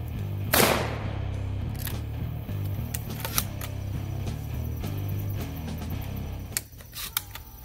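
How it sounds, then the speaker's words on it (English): A Black Aces Pro Series L lever-action 12 gauge shotgun fires one sharp, loud blast early on, followed by scattered metallic clicks and clacks of the action being worked, with a steady background hum. "let's put some more rounds through it"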